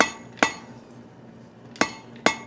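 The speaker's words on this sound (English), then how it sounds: "couple hammer blows there." Hammer blows strike hot steel on an anvil during forge welding of a chain link: three sharp metallic clangs, close and loud, spaced irregularly over a low steady forge hum.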